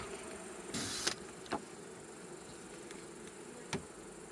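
Wasps at an apiary beehive make a faint, steady buzzing drone with a few brief louder passes close by, and no voices are heard.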